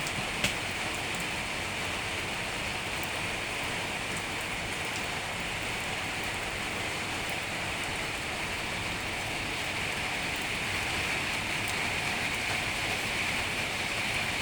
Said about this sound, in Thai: นี่คือบรรยากาศฝนตกค่ะ